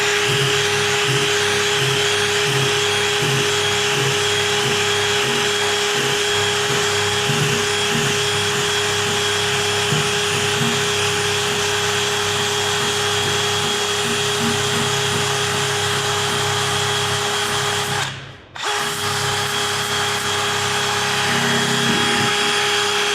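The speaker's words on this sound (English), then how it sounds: "And I grabbed my wire wheel." A wire wheel spun on a power tool strips a trailer, giving a loud, steady, high-pitched grinding whine that runs almost continuously, with one short break near the end before it resumes.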